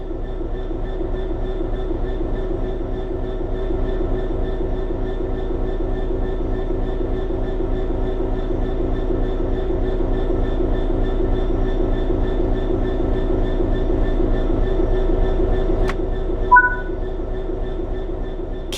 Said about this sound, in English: We want to move the train forwards, so move the reverser in that direction.